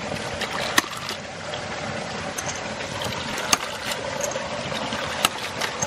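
A water pump runs for a pressure test with its delivery pipe open, giving a steady broadband motor-and-water rumble with a few sharp clicks or knocks at intervals.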